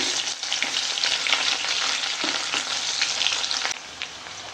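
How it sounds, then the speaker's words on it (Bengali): Onions fry in oil left over from frying bhola fish, giving a loud, steady, close sizzle with scattered crackles that drops off sharply shortly before the end. "পেঁয়াজটা সুন্দর করে ভাজা হয়ে গেছে"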